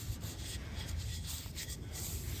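Steady hand-rubbing of boiled linseed oil into the wooden handle and metal of a very old, restored sledgehammer, a soft continuous scuffing friction held at an even, close level with no pauses.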